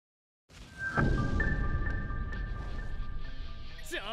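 Secret World jingle from the Dragon Ball Legends mobile game: a bright synthetic chime with sustained tones over a soft whooshing bed, ending in a quick rising flourish, played alone.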